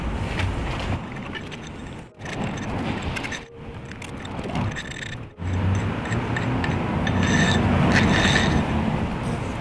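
A hand scraper rasps mortar off flagstone steps in close, gritty scraping strokes, several bursts broken by brief pauses, with a longer sustained scrape at the end.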